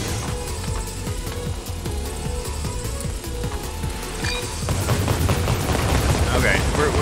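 Explosions and blasts from the Blast Man stage of the Mega Man 11 video game, dense bursts and booms over game music, growing louder and busier in the second half, with a voice talking over them.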